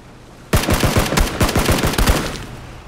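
Rapid bursts of automatic gunfire ring out, a dozen or so sharp shots in quick succession, loud and close, with no talking.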